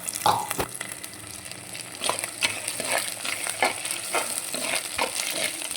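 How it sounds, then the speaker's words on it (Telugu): A paste of onion, green chili, tomato and mint fries in oil for a fish curry, giving a close, crackling sizzle broken by irregular scraping stirs of a spoon against the pan, with no voices. "ఇది కూడా మంచిగా ఆయిల్లో ఫ్రై అవ్వాలన్నమాట మంచిగా ఆయిల్ తేలే వరకు ఫ్రై చేసేసుకోవాలి"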